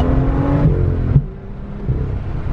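A BMW M2 engine revs and then drops off, followed by a brief low burble from the exhaust as the motor settles at a steady idle.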